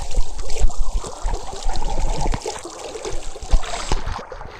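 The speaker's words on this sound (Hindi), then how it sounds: "और ये देखो जी, ये पानी निकल रहा है भाई ज़मीन से" Natural spring water bubbles up out of the ground and flows away, a close, continuous trickling and gurgling with uneven splashy pulses and no talking.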